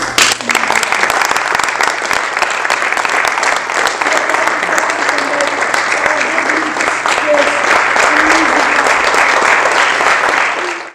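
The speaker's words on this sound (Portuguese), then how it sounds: "Uma salva de palmas para a Isabel." Applause from an audience after a text reading, steady and dense for the whole stretch, with some voices and calls faintly mixed in under the clapping.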